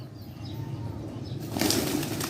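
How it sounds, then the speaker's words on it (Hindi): A pigeon takes off with a quick burst of flapping wings, the fluttering growing louder near the end of this short moment. "वो कबूतर उठ पड़ा"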